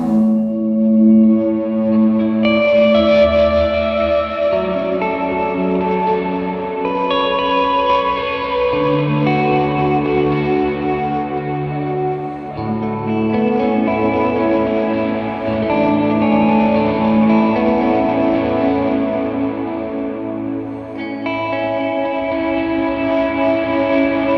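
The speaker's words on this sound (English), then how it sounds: "Now I'm using the volume on my guitar to swell those in." Soft electric guitar notes swell in gradually without attack, washed in wide echoing delay and reverb, forming a continuous ambient pad.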